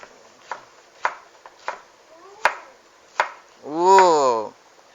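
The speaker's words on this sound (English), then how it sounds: "And then what you do is you chop the remaining ginger. Put it into slices." Knife chopping ginger into slices on a board for Chinese-style steamed fish: about six sharp, spaced chops, followed by a brief burst of speech.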